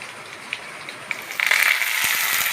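Fennel and fenugreek seeds crackle and sizzle in hot ghee, a soft hiss with scattered pops that grows louder partway through, close by with no voices.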